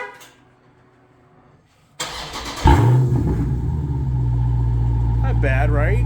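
A Ford Mustang engine cranks and fires up with a sudden loud burst of exhaust, then settles into a steady, heavy rumbling idle after a few quiet seconds of near-silence.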